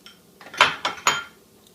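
A spoon or spatula scrapes and clinks against a mixing bowl while semi-sweet chocolate morsels are stirred into a pumpkin harvest loaf cake batter, giving three quick, close strokes with no voices.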